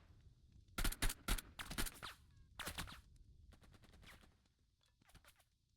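Gunfire in the tactical war game Burden of Command, a cluster of sharp, loud shots in quick bursts followed by fainter scattered cracks fading out, with no talk.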